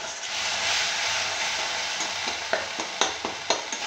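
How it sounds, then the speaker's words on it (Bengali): Spice masala for a papaya curry fries in a pan with a dense, close sizzle, joined toward the end by a series of sharp spatula knocks and scrapes as it is stirred. "যখন মশলাটা ভাজা হয়ে যাবে, কাঁচা গন্ধটা চলে যাবে, ততক্ষণ পর্যন্ত এটা কষাতে হবে।"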